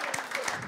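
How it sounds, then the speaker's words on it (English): Applause from a studio audience at a New Zealand political comedy show, a dense steady wash of clapping heard briefly at moderate distance. "a big round of applause"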